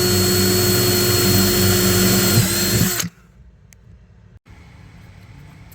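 A power drill bores holes into a fiberglass boat helm, running loud and steady for about three seconds before cutting off, leaving only faint quiet background with a brief click.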